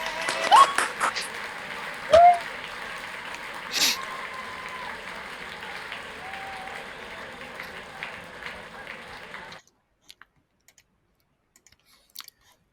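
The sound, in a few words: round of applause over video call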